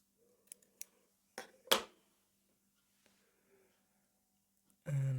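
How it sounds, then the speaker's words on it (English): Scissors snip through yarn while finishing a left-handed crochet hand warmer, giving one clear close snip after a few faint clicks, then quiet and a low thump at the end. "I'm just going to put a slip knot in the end and then cut the yarn"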